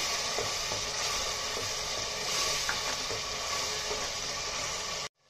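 Ginger, garlic and green chili paste frying in a pan for raw mango chicken, giving a steady close sizzle with faint stirring scrapes that runs unbroken until it cuts off at the end.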